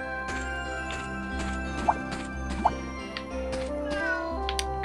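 A cat in the video game Fantasian gives two short meows over a steady looping background music track, soft and clearly audible amid the game's ambience.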